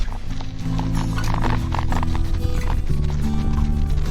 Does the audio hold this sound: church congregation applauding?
no